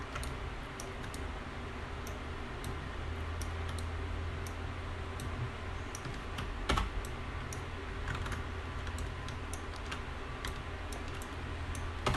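Keys on a computer keyboard are pressed in scattered, irregular clicks, with occasional quick clusters of taps, against a low steady background hum.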